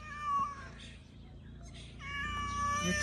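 A calico cat meows a few times, drawn-out and whiny, close by in a quiet room.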